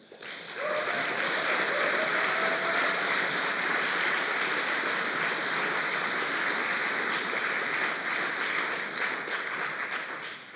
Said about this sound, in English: I think we owe Mark a huge round of applause